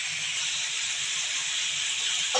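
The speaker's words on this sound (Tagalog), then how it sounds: "isilagay na natin yung chicken na marinate. So, isutay natin to until mag-light brown siya" Marinated chicken sizzles steadily in a hot pan, a continuous bright hiss of frying fat with a faint low clatter underneath, close and even throughout with no talking.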